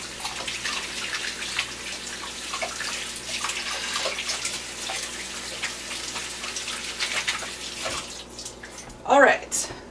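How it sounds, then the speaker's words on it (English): Tap water runs steadily into a sink while hands are washed, with close splashing and dripping throughout and a brief louder burst near the end. "and I have to wash my hands again."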